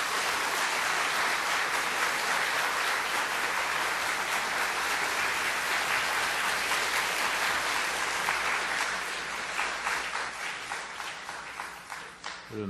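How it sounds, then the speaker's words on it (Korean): A church congregation at an evening revival meeting applauds to welcome the pastor, a dense, sustained wash of clapping from many hands that holds steady and then thins and tapers off near the end. "우리 목사님 나오실 때 우리 뜨거운 박수로 우리 목사님 같이 맞이하도록 하겠습니다."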